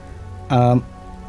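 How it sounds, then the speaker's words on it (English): Steady rain falls in the video game Empyrion, a faint, continuous patter broken midway by a short, loud tonal beep. "The rain switched to just rain."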